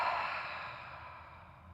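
A long, breathy exhale out the mouth during the cooldown of a yoga session, heard as a single close, soft sigh that tapers off gradually over about two seconds.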